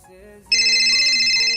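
A phone ringtone starts suddenly and loudly, a bright sustained electronic ring cutting in over a faint low musical tone.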